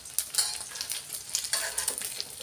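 Food frying in a pan, a close, bright crackling sizzle with bursts of spattering and a few stirring knocks, steady throughout with no one speaking.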